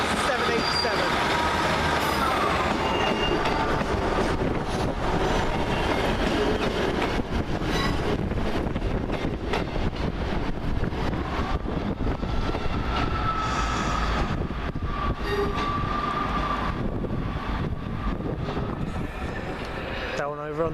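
At Carlisle station a train rumbles past with loud, continuous wheel and engine noise, and faint squeals rise over the din. A station announcement voice is heard partway through.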